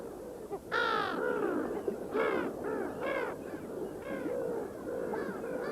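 Brown-headed gulls call beside a high lake in the Pamirs, with several harsh, ragged cries, close and loud, repeating in uneven bursts over a steady wind-like background.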